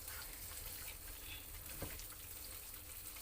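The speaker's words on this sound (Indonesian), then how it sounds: "Ini biarkan tumis dulu sampai matang, baru nanti masukkan kentangnya." Spice paste for sambal goreng kentang sautéing in a pan, giving a faint steady hiss and sizzle with one brief knock partway through; quiet and continuous, no voices.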